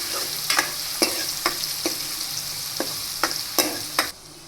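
Onions and garlic sizzle steadily in hot oil in a home kitchen pan for a Gujarati leftover-roti curry, with a sharp stir or spoon scrape every second or so over the crackle.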